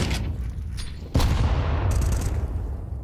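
Grenade blast in a Counter-Strike match, a sudden heavy boom that lands about a second in and rolls on as a dense, sustained rumble with crackling game noise around it.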